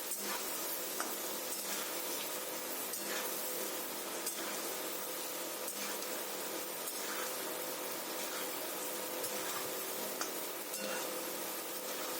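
Steady sizzling of potatoes frying in oil, continuous and close, with occasional light stirring clicks and no voices.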